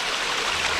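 Flowing stream water, a steady broadband rushing and trickling wash, close and continuous over a brief moment with no voices.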